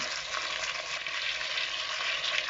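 Chicken pieces sprinkled with salt fry in a pot for a Réunion-style curry, a dense, even hiss of sizzling fat holding steady throughout at moderate volume.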